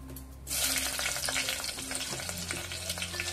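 Vertically sliced green chillies hit about two to three spoonfuls of hot oil, bursting into a loud, steady sizzle after a brief quiet start, with faint clinks of a utensil in the pan.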